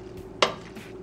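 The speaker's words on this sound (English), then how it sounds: "I'm just gonna stir it around, make sure it's well coated" A single sharp clink of a utensil against a bowl while macaroni is stirred to coat it, brief and close against a quiet kitchen hum.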